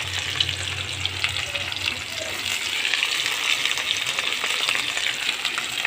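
Okra hitting hot oil and frying over a high gas flame, a loud, steady hiss and crackle that carries on throughout with no talking.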